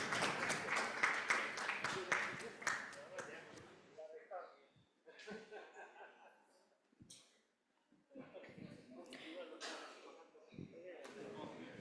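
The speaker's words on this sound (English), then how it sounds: "Can we give a big round of applause" An audience at a public lecture and book launch claps in a burst that is full at first and then thins into scattered claps, with quieter gaps and a few late clappers near the end.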